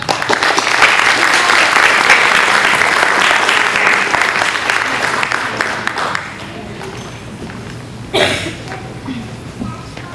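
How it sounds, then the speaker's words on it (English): A graduation ceremony audience applauds two valedictorians at a Grade 8 graduation, loud dense clapping that fades after about six seconds, followed by a brief bump of noise and quieter room sound. "Please welcome with applause your valedictorians, Sarah and Eric"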